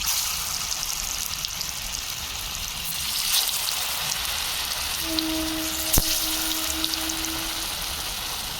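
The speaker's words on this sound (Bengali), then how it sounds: "তেল গরম হয়ে গেছে একটা করে মাছের পিস তেলে ছেড়ে দেবো" Steady, loud sizzle of fish pieces for a vegetarian fish curry frying in plenty of hot mustard oil, a continuous crackling hiss with a brief tonal beep midway and no talking.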